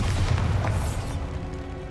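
Bombarda spell blast in the Hogwarts Legacy video game, a loud booming explosion with a dense low rumble that swells and then decays over about a second, trailing into a quieter ambient tail.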